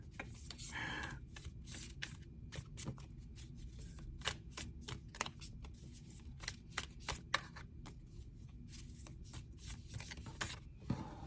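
Tarot cards are shuffled close up: a long run of quick, crisp riffling flicks in uneven bursts over a quiet room, with no one speaking.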